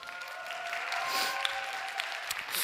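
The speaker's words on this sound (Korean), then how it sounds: "박수로 환영할까요?" A church youth service congregation claps steadily for a few seconds, a dense patter of many hands at moderate volume with no voices over it.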